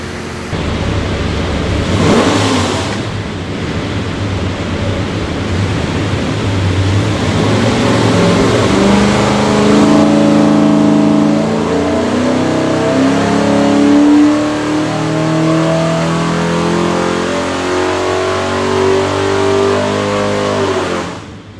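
A 408 cubic-inch small-block Mopar V8 runs on an engine dyno, idling briefly and then revving in a long, loud, steady pull whose rising harmonic roar holds near and strong until the engine cuts off.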